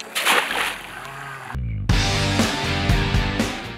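A fishing net is cast into a shallow, slow-flowing river near Sukabumi, making a sharp splash and then continued sloshing and splattering of water up close.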